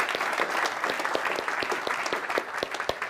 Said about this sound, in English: that does need a round of applause